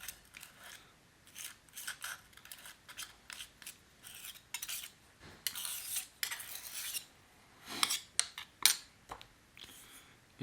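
Quiet scraping of a metal spatula clearing manganese violet paint, a series of short, irregular, rasping strokes with brief pauses between them.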